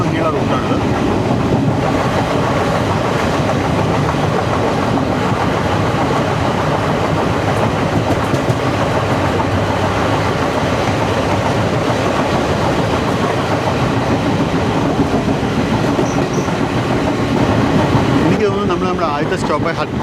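The Koyna Express on the Kolhapur to Pune line runs toward Hatkanangale station with a loud, constant rumble and rhythmic clickety-clack of wheels, heard close up from inside the moving train.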